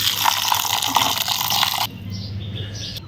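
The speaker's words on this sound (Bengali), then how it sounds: "এবার ঠান্ডা জল দিয়ে দেব।" Cold water poured onto freshly cooked rice to make panta bhat, a steady close splashing pour that stops abruptly, followed by quieter trickling and light clinks.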